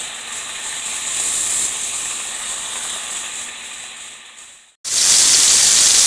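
Keto pork chops sizzling in a pan, a steady broadband hiss that runs for several seconds, briefly drops out, then returns louder and brighter.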